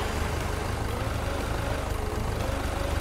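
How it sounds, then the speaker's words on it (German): A forklift engine in the Beer Factory game turns over and settles into a steady, close, low rumbling idle that runs without a break. "Motor an."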